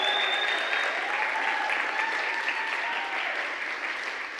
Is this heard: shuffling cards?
no